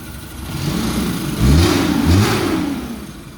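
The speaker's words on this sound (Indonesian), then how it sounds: "Mesinnya enak. Tanpa ngegas guys. Mesinnya halus banget ya." Fully restored JDM Suzuki Katana motorcycle engine running smoothly with no throttle applied, a steady close-up idle that swells briefly twice in the middle before settling back.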